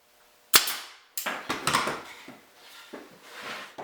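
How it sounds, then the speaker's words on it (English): A 23 gauge pin nailer driving 1-inch nails into a wooden picture frame subframe, a sharp close snap followed by several lighter clicking shots and small handling knocks, with no speech. "using 1-inch nails and a 23 gauge pin nailer, tack it to the subframe"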